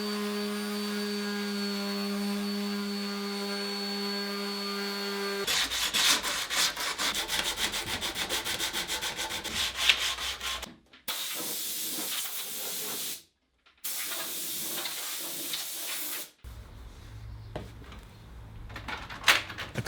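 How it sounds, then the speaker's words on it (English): Sanding across a wooden workbench surface, a dense, continuous abrasive hiss that stops and restarts in several bursts, close up with no talking. "Now the whole surface is sanded, so that no splinters or rough surfaces remain anywhere."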